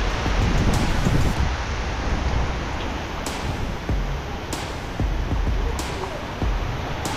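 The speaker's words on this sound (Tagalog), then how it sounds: "malakas yung hangin, di tayo makalabas-labas" Strong typhoon wind roars steadily close to the microphone on Burias Island, a broad rushing gust with buffeting and faint rattles, and a voice speaks briefly under it.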